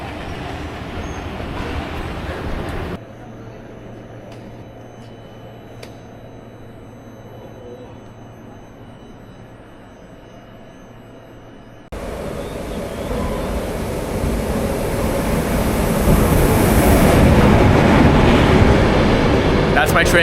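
A train rumbles into a crowded station platform over steady crowd hubbub, its roar swelling loud and broadband as it draws close and fills the space.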